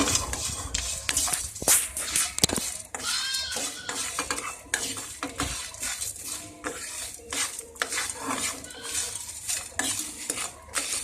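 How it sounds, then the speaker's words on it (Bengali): Whole spices dry-roasted in an empty pan over a medium flame for a chicken dak bungalow curry, with a steady stream of close clinks, scrapes and rattles as they are stirred and tossed, and no talking. "1 থেকে 2 মিনিট মতো এগুলোকে শুকনো খোলায় ভেজে নেব।"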